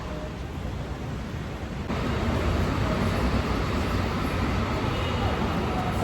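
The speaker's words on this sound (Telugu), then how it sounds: "ట్రైన్ వచ్చింది." A train arrives as a broad, steady rumble and roar that swells louder partway through and then holds at a constant level.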